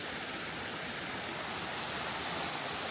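A pretty river flowing right beside a campsite on the Appalachian Trail, a steady, even hiss of rushing water, constant and moderately loud with no voices.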